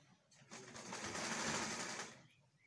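A sewing machine runs a steady stitching burst of about one and a half seconds along the seam of a child's rope trouser, starting and stopping cleanly in a quiet room.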